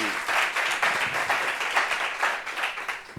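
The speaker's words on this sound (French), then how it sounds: "Je voudrais vous demander pour l'encourager de l'applaudir encore, s'il vous plaît." A crowd applauds steadily at a meeting on depression and suicide, dense clapping sustained throughout at moderate volume with no voices over it.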